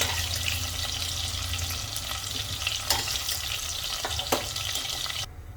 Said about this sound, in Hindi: तो आलू और गोभी हमारे फ्राई हो चुके हैं